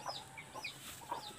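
A hen, a laying mother hen among chicks, gives several short, soft clucks close by over a quiet farmyard background.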